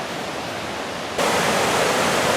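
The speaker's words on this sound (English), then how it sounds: "I can really hear the powerful roar of water" Broad, steady roar of rushing water near a waterfall on a park hiking trail that suddenly swells louder partway through, a dense, continuous wash of noise with no voices.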